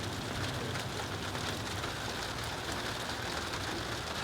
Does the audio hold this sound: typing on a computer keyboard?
no